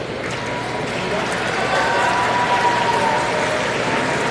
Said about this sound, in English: which is why everyone's clapping